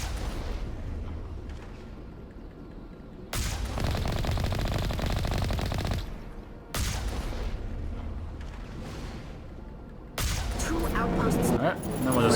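Continuous rapid automatic gunfire in the Mass Effect video game, aimed at a dropship, comes in dense sustained bursts with short breaks, loud and close, under a player's occasional talk.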